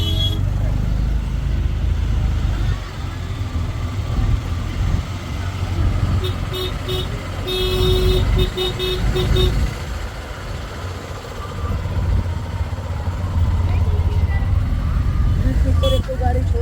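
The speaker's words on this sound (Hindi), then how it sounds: "ट्रैफिक हो रहा है, बिल्कुल ट्रैफिक।" Dense, loud road traffic near the Mahakumbh 2025 gathering in Prayagraj, on the way toward Sangam, with engines rumbling continuously and short clusters of car horns honking in the middle, over a low crowd murmur.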